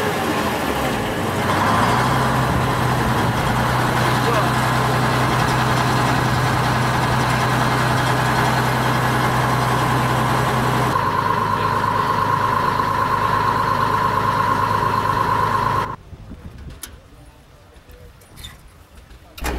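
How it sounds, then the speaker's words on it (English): A Model 80 two-cylinder pony start tractor cranking and running: a steady loud drone holds with a sustained tone, shifts to a higher whine, then cuts out, leaving quiet with small knocks. "And this is a typical pony start tractor."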